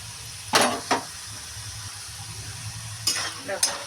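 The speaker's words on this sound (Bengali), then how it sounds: "দেখো আলুটা কিন্তু লাল লাল করে ভাজা ভাজা হয়ে গেছে প্রায়" Potatoes browning in a pan over a steady hot sizzle, broken by a few sharp spatula scrapes and stirs near the start and end, close and fairly loud.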